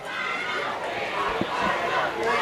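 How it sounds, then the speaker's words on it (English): Indoor crowd noise at a home opener game for the Kernels, a steady murmur of many voices filling the room, moderately loud with no standout cheers. "Good crowd on hand."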